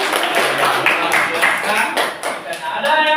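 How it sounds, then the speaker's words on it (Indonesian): Classroom applause for a student group: scattered hand clapping, fairly close, lasting a few seconds with uneven, overlapping claps. "tepuk tangan untuk kelompok 4"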